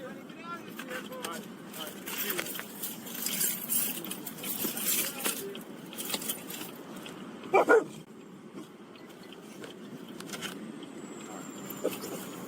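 Dogs bark and yip from inside a car during a roadside traffic stop, in repeated bursts heard under people talking and outdoor noise.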